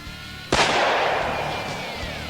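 A single loud gunshot from a 45 ACP pistol converted with a compensated barrel to fire 460 Rowland rounds, a sharp close blast followed by a long rolling echo that fades slowly.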